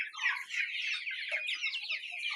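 Light Brahma chickens about two months old clucking and chirping together in a flock, close and continuous, many overlapping calls with no talk.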